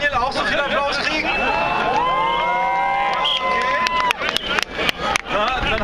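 Crowd at an anti-ACTA demonstration in Mannheim cheering and whistling, with a person talking over the noise and sharp bursts of clapping near the end.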